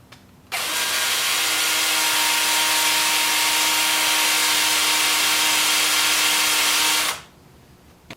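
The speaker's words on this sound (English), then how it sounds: "I'll just take this over here to the workbench and sand up the bottom." A spalted maple pedestal bowl has its bottom sanded at a workbench: a loud, steady whirring rasp starts abruptly, holds evenly for about six and a half seconds, then cuts off, with no talking.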